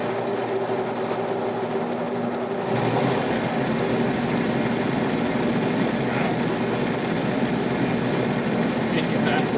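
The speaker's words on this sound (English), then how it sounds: "bear with me while I turn on this jet engine and blend this up" A powerful blender starts up and whirs at full speed through black bean brownie batter, a loud steady motor roar after a quieter opening.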